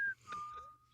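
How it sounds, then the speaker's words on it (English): A person whistling a brief, faint tone that shifts between pitches for under a second, against a quiet background. "Did someone just whistle?"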